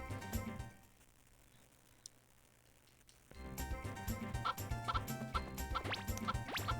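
Chickens cluck and squawk in a farming video game, a busy run of short bird calls that drops to near silence for a couple of seconds, then resumes loudly over light background music.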